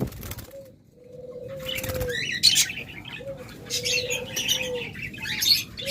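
Pet birds kept in pairs, including budgerigars, cockatiels, lovebirds and doves, sound close by with repeated soft coos, bright chirps and short bursts of wing flapping.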